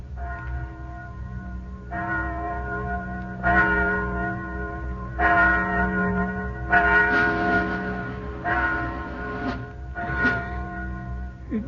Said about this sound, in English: Just a bell.